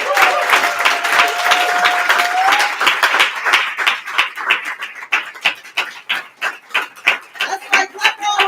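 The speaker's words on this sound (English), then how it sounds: "That's right, clap all the way to the stage." Audience at a poetry night in a bar gives applause with a whistle or cheer as a poet heads to the stage; full clapping thins into sparser, more rhythmic claps toward the end.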